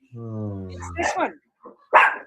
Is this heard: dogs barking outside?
yes